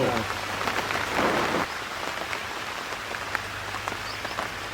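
Light rain falls outdoors near a river as a steady patter and hiss, with a low hum running underneath. The rain swells briefly early on, then settles into even pattering.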